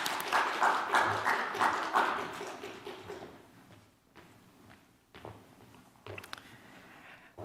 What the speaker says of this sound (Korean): 다시 박수!